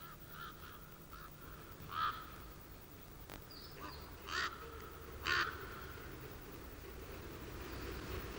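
Ravens call over a pine forest in La Caldera de Taburiente, a few hoarse, distant caws spaced a second or two apart over faint outdoor ambience.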